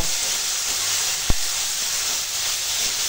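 Pumpkin and eggplant frying with salt and turmeric in a pan, a steady close sizzling hiss that runs throughout with one sharp click near the middle.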